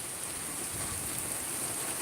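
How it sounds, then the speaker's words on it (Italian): Heavy rain pours down during a thunderstorm with lightning, a dense, steady hiss that fills the whole stretch, with no distinct thunderclap or voices. "Adesso sta aumentando l'intensità della pioggia."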